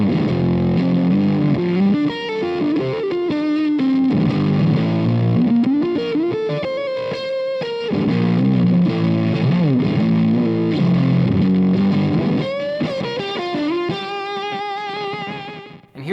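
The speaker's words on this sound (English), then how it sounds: "Let's see how a standard fuzz tone sounds." An electric guitar fed through a fuzz pedal set to a standard fuzz tone plays a riff of thick, buzzy, saturated notes and sustained chords, loud and upfront, ending with a brief cutoff.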